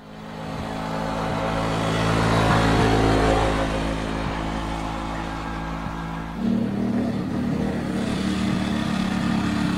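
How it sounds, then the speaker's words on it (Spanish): In a film scene, a motorcycle arrives with a growing engine drone that swells near and loud, then changes pitch and settles into a steady hum. "Hay una escena donde llega Tristeza en una moto"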